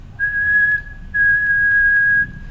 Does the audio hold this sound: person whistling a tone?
yes